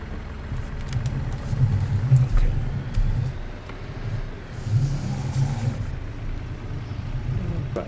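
A tractor engine runs in the video game Farming Simulator 19, giving a low, steady rumble with mild surges in revs as it drives, moderately loud and without talking.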